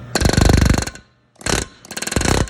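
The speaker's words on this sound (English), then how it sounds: "I like to use an air hammer with a flat pom-pom bit." A pneumatic air hammer with a flat bit strikes a car's bearing support during CV boot replacement. It fires loud, close, rapid-fire bursts, a long one and then two shorter ones after a brief pause.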